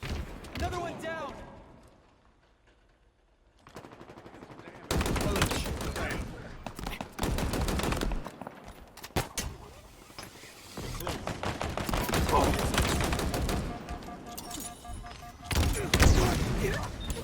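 Rapid bursts of automatic gunfire and sharp single shots from the Halo Infinite multiplayer video game come in loud clusters separated by short lulls, mixed with in-game voice callouts.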